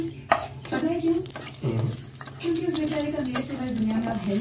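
Panch phoron and dried red chillies hit hot oil in a pan, giving a steady close hiss and crackle while a person talks over it.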